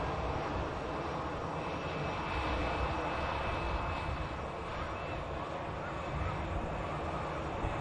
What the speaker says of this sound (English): Airbus A380 on a bit of a long taxi all the way from runway 2 over to terminal buildings